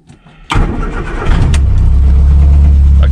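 A rusty 1967 Morris Minor daily driver cranking briefly and starting on choke, close and loud, a quick churn then a sudden catch into a steady, rumbling idle.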